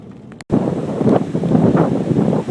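Strong Hurricane Sandy winds roar at the ocean, buffeting the microphone with loud, gusty rushing noise and surf underneath; a brief dropout comes early, then the wind blasts on continuously.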